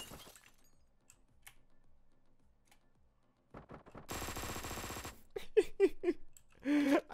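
Gunfire in the top-down action game Hotline Miami 2: Wrong Number: a dense burst of rapid automatic shots followed by a few sharper single blasts, loud against quiet in-game ambience.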